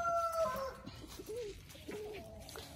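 Chickens and roosters cluck and call faintly in a farmyard, short scattered fowl sounds over a low background.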